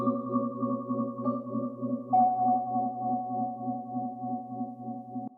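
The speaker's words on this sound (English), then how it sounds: "I actually found this Wurlitzer loop, so let me show you that." Sustained electric piano chords from a Wurlitzer loop with a warm, slightly wavering tone, moderately loud and steady, shifting to a new chord partway through, alone without talk, for a boom bap beat built in Ableton Live 11.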